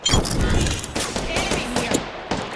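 Video game gunfire striking the player, dense rapid bursts of shots and impacts packed close together and loud, with game sounds layered over them.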